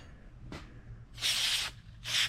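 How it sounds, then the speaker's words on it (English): Short bursts of white lithium grease sprayed from an aerosol can onto an old Schwinn Racer bicycle frame: a brief puff followed by two louder, sustained hissing sprays, close and alone. "Let's spray some white lithium in here."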